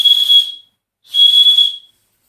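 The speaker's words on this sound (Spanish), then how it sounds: "Es un silbato y nos remite a otra gran cultura" An ancient whistle gives two sustained, piercing high tones, each about half a second to a second long and separated by a short silence, loud and close.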